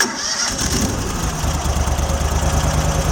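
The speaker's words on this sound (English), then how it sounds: "You always allow the machine to run it slow to kind of warm up" A Kohler engine on an Amtex Marine 4047 APO machine catches and settles into a steady, loud idle, its low rhythmic chugging continuous and close with no talk over it.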